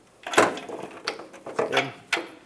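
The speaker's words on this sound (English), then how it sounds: "Now I'm going to torque this to 28 foot-pounds." A torque wrench tightens a bolt to 28 foot-pounds, giving a few faint, separate mechanical clicks spaced irregularly and close by, with no talking.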